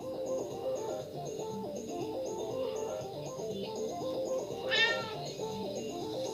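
Cat meows in the game Tokyo Dark Remembrance, with a brief sharp cry standing out over looping background music.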